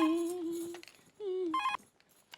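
A telephone rings during a call, two short bursts of melodic electronic ringtone, fairly close and clear, with a brief pause between them and no one speaking.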